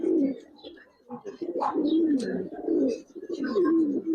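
Giribaz pigeons coo in a loft, soft repeated rolling coos that overlap with a few faint chirps and rustles, close and continuous.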